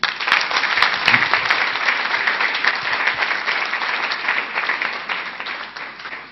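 An audience bursts into loud applause at a product knowledge seminar, thick continuous clapping that swells early and then tapers off toward the end.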